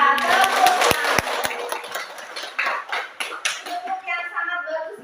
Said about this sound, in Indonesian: tepuk yang sangat bagus ya